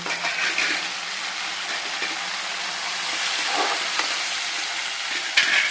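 Onions and tomato sautéing in a pan make a steady, close sizzle and hiss, with a brief stir or scrape near the end and no voices.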